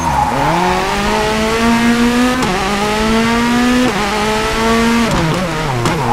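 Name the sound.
rally car handbrake turn in the WRC 4 video game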